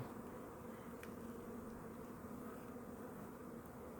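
A low continuous hum of honeybees crawling inside the hive after wintering drones on steadily, faint and close, with no voices.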